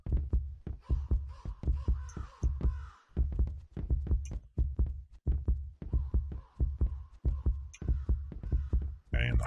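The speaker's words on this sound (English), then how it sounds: "And the heartbeat's going up." A heartbeat sound effect in a horror video game, a steady run of loud, close, muffled thumps that keeps a fast, even rhythm with no talking.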